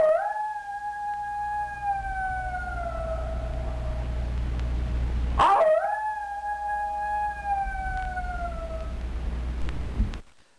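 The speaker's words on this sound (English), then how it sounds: "in the far distance we can hear some coyotes howling" Two long wavering coyote howls rise and fade one after another, distant and drawn out over a low steady rumble, with no voices.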